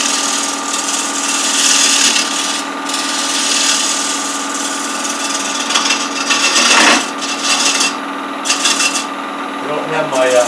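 A hollowing tool on a wood lathe lightly skims the edge of a spinning wooden piece, producing a continuous scraping whir with a few brief louder bursts and pauses.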